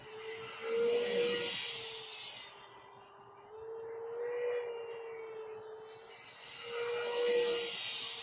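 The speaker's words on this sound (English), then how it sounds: "Also have a screaming noise from the EDF engine." A high, steady whining turbine scream from an E-Flite Habu SS 50mm electric ducted fan model jet that swells and fades as it passes by, with a droning undertone, fairly distant and without voices.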